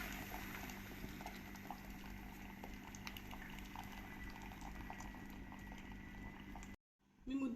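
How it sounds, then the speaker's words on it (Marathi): Water heating toward a boil in a pot gives a steady, dense bubbling hiss over a constant low hum, running unbroken before cutting off abruptly near the end. "मी मुद्दामूनच आधीच गरम पाणी करून टाकलेलं आहे, जेणेकरून उकळी लवकर येईल।"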